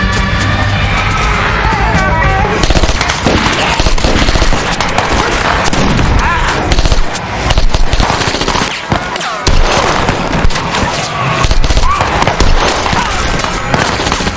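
Rapid machine-gun bursts and scattered rifle shots from the Governor's group in a Walking Dead firefight crackle loudly and almost without pause, with overlapping volleys and brief lulls in the shooting.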